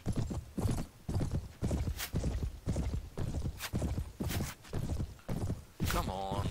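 Rhythmic hoofbeats of galloping horses pound steadily throughout in Mount & Blade, with a horse whinnying near the end amid busy game-like action.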